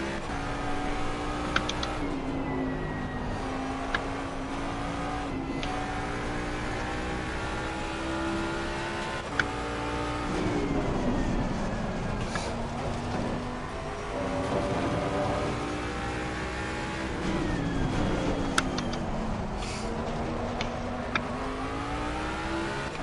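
A GT3 race car engine at Circuit of the Americas in a racing video game, revving up and down through gear changes with a continuous whining drone, close and steady throughout.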